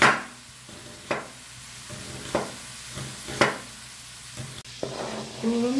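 Sliced onions caramelize in a frying pan, a steady close sizzle and crackle broken by about five sharp spoon scrapes and stirs against the pan, with no talking.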